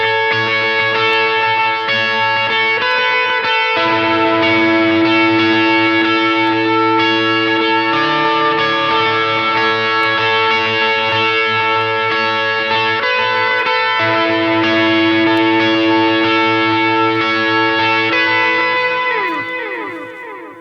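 Electric guitar run through effects, with distortion, chorus and echo, playing a worship-song part at full speed. The wash of sustained, layered notes is loud and continuous, then fades at the end, with no talking.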